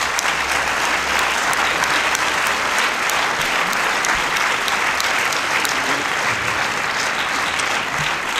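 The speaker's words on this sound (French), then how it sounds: "Vous pouvez l'applaudir." An audience applauds a prize winner at an opening evening in a theatre hall, with sustained, dense clapping from a large crowd, loud and continuous throughout.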